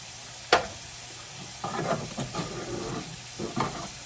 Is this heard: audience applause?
no